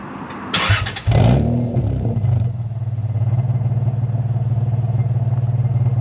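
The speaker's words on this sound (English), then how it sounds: "it's a little bit loud on the startup, but once it's idling, it's quite a quiet car, to be honest" A Toyota Supra MK4 fitted with a Blitz catback exhaust cranks and fires with a loud, brief burst of revs. It then drops to a steady, quieter, low-pitched idle with an even pulsing rhythm that carries on alone to the end.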